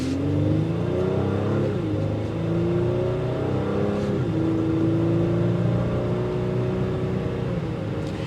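A 2025 Honda Pilot Elite accelerating in sport mode, engine note climbing through several gear shifts with rising and dropping pitch, steady and fairly loud from inside the cabin.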